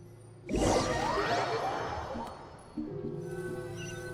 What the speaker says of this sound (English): What's with the banging? The bell.